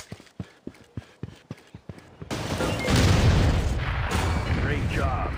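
Grenade blast in the shooter Critical Strike: a quick run of sharp footstep-like taps, then a loud, sustained booming explosion that rumbles and fades over several seconds.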